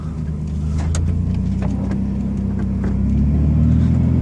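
A 2002 Chevy S10 pickup creeps along slowly in four-wheel-drive low, its engine holding a steady, close, deep rumble that swells slightly toward the end.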